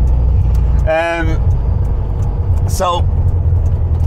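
A 1974 VW Super Beetle with a 1915cc engine drives along, its loud, steady rumble running throughout while someone speaks briefly over it.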